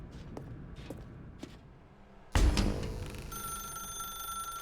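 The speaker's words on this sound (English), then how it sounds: "Now pick up the phone." Telephone ringing in the video game The Stanley Parable, a sudden loud burst followed by a sustained ringing tone, preceded by a few soft taps.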